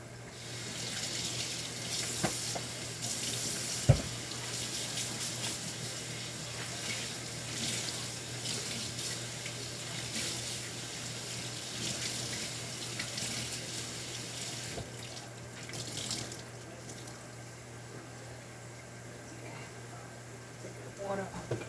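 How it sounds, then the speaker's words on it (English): Water runs steadily from a kitchen sink tap in a home kitchen, a constant close gushing hiss lasting throughout, with a faint voice nearby. "when you turn your water on, you get some water in the back of your sink."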